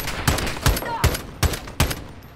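Five sharp gunshots in Call of Duty Modern Warfare 2, fired in an uneven rhythm about half a second apart, loud and close over a low background of game noise.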